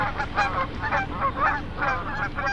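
Canada geese honk repeatedly in a loose, overlapping chorus, moderately near and steady, with no voices over them.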